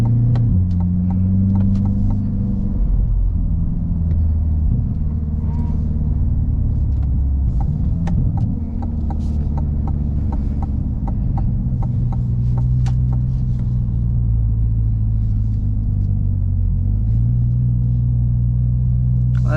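A Chevrolet Corvette C8 Z51 rumbles steadily from inside while cruising on a road, its low engine drone continuous and loud, with faint ticks and rattles over it and no talking.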